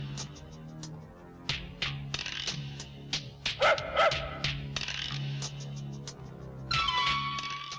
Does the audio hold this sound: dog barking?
yes